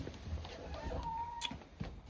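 Chickens clucking softly in a coop, a faint, distant murmur of fowl sounds under steady background noise.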